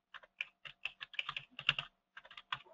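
Typing on a computer keyboard while entering items into a mind-mapping program: a quick run of close, crisp key clicks in uneven bursts, with a short pause near the end before a few more strokes, with no talking.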